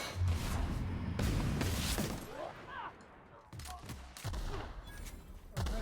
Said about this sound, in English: this assault rifle is something next level.